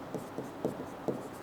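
A pen marks a chemistry formula on paper in a few short, scratchy strokes, close and soft, with a faint room hum underneath and no talking.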